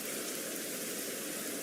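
Rain and nature ambience plays softly in the background as a steady, even hiss of falling rain with no breaks.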